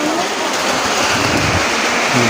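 Steady rain falling outdoors in a village, a dense broadband hiss of close, loud downpour that continues evenly without pause across the short stretch.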